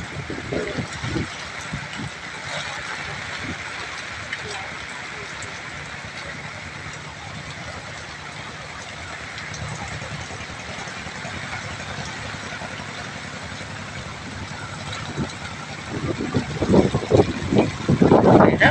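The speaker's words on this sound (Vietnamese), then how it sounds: "Và đây có chiếc ghe chở dừa nạo nữa các bạn" A motor boat loaded with grated coconut runs past on a river in the rain, its engine a steady low drone beneath wind and rainfall noise, swelling louder near the end.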